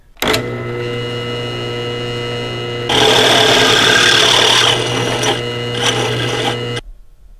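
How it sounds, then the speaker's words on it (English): Threads being cut by hand into a metal pipe on a 1JZ engine setup: steady close grinding and rasping, joined midway by louder scraping and clicking bursts, stopping abruptly at the end. "We're just tapping Quentin's pipe."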